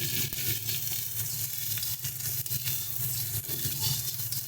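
Chickpea greens fry gently while ground spices, turmeric and salt are stirred in, a soft continuous sizzle with low rumbling and light scraping.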